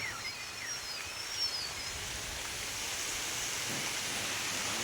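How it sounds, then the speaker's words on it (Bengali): Heavy rain falls in a steady, dense hiss from an open outdoor spot near a potato loading site. The wash stays even and moderately loud throughout, with faint bird chirps near the start. "হ্যাঁ, প্রচণ্ড জোরে বৃষ্টি নেমে গেছে বৃষ্টি পড়ছে"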